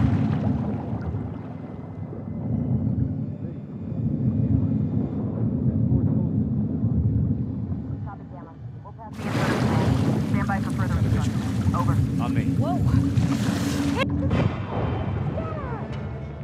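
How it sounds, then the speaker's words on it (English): A boat engine drones steadily in The Last of Us Part II, low and continuous beneath wind and water noise, with a rush of wind and splashing swelling midway, and voices talking over it. "Got the engine back up."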